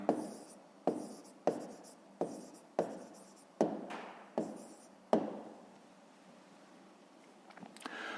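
Pen writing on paper during a 5th-grade math exercise, with a series of about eight distinct scratchy strokes at a steady, unhurried rhythm, close and quiet, with no talk.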